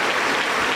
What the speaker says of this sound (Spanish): Lo recibimos con fuerte aplauso para el Señor Jesús.